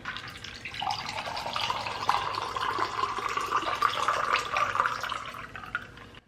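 Apple cider margarita poured into a glass in one continuous liquid stream, a steady gurgling splash lasting several seconds, close and fairly loud, ending abruptly, with no speech.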